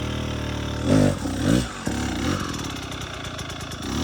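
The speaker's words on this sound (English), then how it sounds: "Continuous revs of throttle, little movements with the hand continuously to feed the engine power." A motorcycle engine revs up in two quick rises with small throttle movements, then settles into a steady, close, chugging idle.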